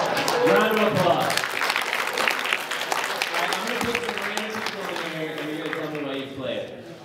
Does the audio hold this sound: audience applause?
yes